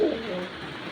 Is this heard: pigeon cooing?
yes